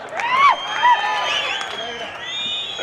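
A crowd at an outdoor political election rally lets out shrill rising whistles in a couple of quick bursts, followed by a lingering high whistle over a general crowd murmur with a voice mixed in.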